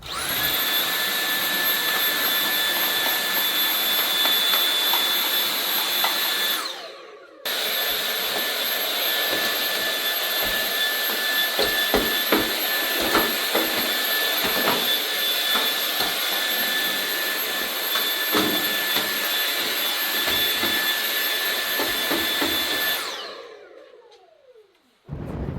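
Canister vacuum cleaner sucking dust out of a clothes dryer, a loud steady whine with a brief cut-off near the start, clattering bumps of the nozzle throughout, and a winding-down fade before it stops.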